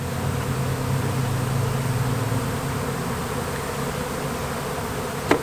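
A dense, steady drone of a bee swarm buzzing close by around a hive, continuous and loud, ending with a brief sharp knock.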